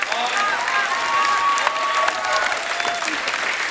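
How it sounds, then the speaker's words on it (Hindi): A studio audience at a Hindi comedy talk show claps for the guests in continuous, even applause, with a few whistles rising over the crowd. "जोरदार तालियां हमारे मेहमानों के लिए।"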